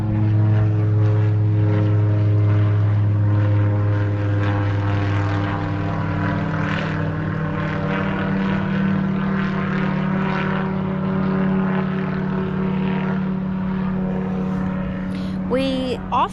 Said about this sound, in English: We often have airplanes that are flying over, whether they're commercial or private.